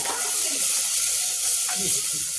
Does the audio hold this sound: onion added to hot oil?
yes